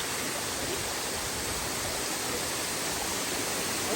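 A waterfall in dense forest roars as a steady, loud, unbroken wash of rushing water with no other sounds standing out.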